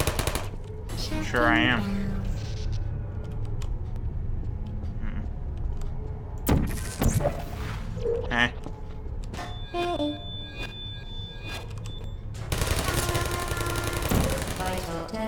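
Turret gunfire in the video game Portal rattles in rapid bursts, mixed with game effects and electronic tones, while a person talks over it.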